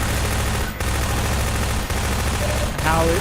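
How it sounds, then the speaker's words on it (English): Rapid bursts of gunfire in the video game Half-Life 2 crackle densely and loudly, almost unbroken, with a couple of brief pauses and a short rising electronic tone near the end. "Let's get some gunshots. Can you hear that at all?"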